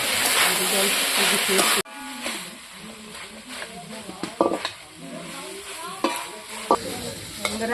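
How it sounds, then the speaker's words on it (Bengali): Potato and eggplant pieces sautéing in a pan, giving a loud hiss at first, then quieter sizzling with repeated spatula stirs and scrapes close by. "দেখুন কত সুন্দর আলু বেগুন কষানো হয়ে গেছে।"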